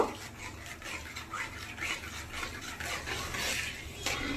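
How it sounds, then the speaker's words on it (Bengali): Thick palm juice being mixed in a bowl, with soft close stirring and light scraping and clinks against the bowl, continuous and fairly quiet. "এবার আমি রসটাকে ভালো করে মিশিয়ে নেব।"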